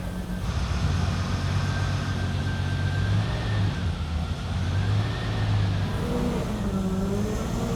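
A restored BMW E31 850 with its V12 engine running after a two-year restoration, a steady close idle drone that holds evenly throughout, with a faint high whine, no voices.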